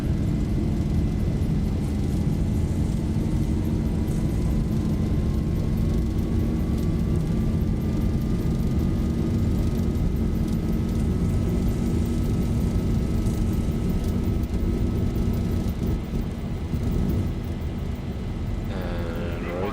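A simulated Boeing 737-800 (ZIBO 738) on its takeoff roll in X-Plane 11 on a Johannesburg to Durban flight, with loud steady jet engine roar and a slowly rising whine as speed builds, continuous throughout.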